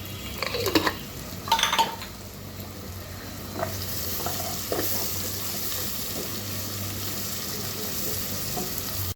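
Steady sizzling of onions frying in a pan, with a few scraping stirs and clinks early on, continuous and close.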